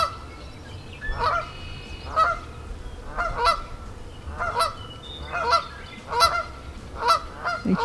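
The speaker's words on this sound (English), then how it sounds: "The Canada geese are upset." Canada geese honking repeatedly in a wildlife refuge, a series of loud, evenly spaced calls roughly every second over steady outdoor background noise.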